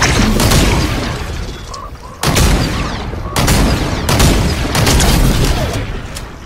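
Dense video-game gunfire and explosions roar almost without pause, loud and heavy, with sharp bursts and booming hits layered over each other.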